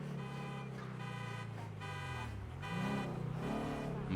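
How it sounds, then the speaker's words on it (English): A car alarm beeping in the GTA roleplay game on NoPixel: a regular, repeating electronic tone pulsing about once a second over a low engine hum, steady and fairly close. "I'm gonna get past the beeping car because it's gonna drive me crazy."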